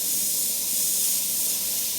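Airbrush blowing a steady hiss of paint spray for bullet-hole effects, close and continuous throughout with no pauses or talk.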